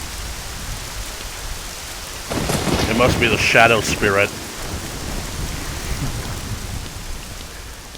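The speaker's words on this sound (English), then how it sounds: "Seems like a pretty heavy sun shower." Heavy rain hisses steadily through a sun shower in Zelda: Ocarina of Time, a constant wash of noise that runs the whole time while a voice speaks briefly over it in the middle.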